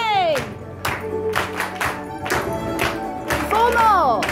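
A group claps hands together in a series of sharp, evenly spaced bursts, alternating with voices calling out and singing between the claps.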